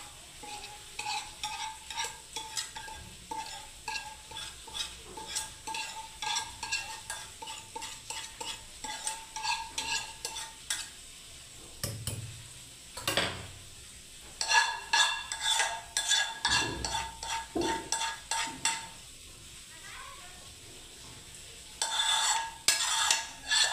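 Custard mixture for a bread pudding is poured over bread in a kitchen, then stirred and scraped with a utensil, giving soft irregular clinks and scrapes against the dish in bursts, with quiet pauses between.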